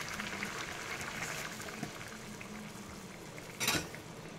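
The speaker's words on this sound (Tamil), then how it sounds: "நல்லா கொதித்து வருது பாருங்கள்" Tomato sambar without dal, the tiffin style served with idli and dosa, simmers in a pot with a soft, steady bubbling, joined near the end by a brief louder clink or stir.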